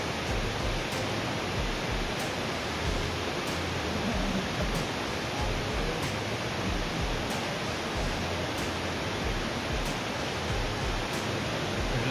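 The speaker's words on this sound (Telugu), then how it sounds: "చూసారండి అక్కడ వాటర్ ఫాల్స్ మారుగా వెళ్తున్నాయి నీళ్ళు." Jog Falls waterfall in Karnataka during summer, when the flow is reduced, gives a steady, dense roar of falling water that fills the scene continuously without breaks or voices.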